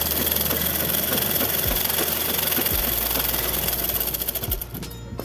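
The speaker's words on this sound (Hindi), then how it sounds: "किनारे किनारे से सिलाई लगाना है।" An electric sewing machine runs steadily as it stitches salwar fabric along the edge, a loud, close, continuous mechanical whir and rapid needle chatter that slows and winds down near the end.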